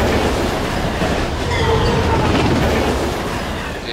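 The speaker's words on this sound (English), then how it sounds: "avoid getting hit by a train again" A video game train rushes past, heard as a loud, continuous rumbling roar of rail noise with a faint squeal near the end.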